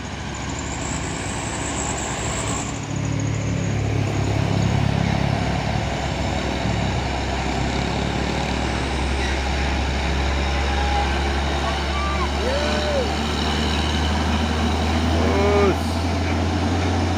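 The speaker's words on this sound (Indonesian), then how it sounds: "Masuk lagi satu nih truk trailer Hino 500 membawa kontainer pemain Hino Jember." A Hino 500 trailer truck hauling a container climbs an incline, its deep engine drone holding steady and loud throughout, with crowd voices and occasional whistles over it.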